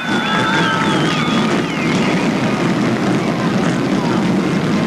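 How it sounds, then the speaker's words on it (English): Race car engines of the ACT International Series fire up together at Thunder Road Speedbowl in 1992: a loud, steady, close roar of mixed engine noise for the whole stretch, with wind buffeting the microphone. "Gentlemen, start your engine."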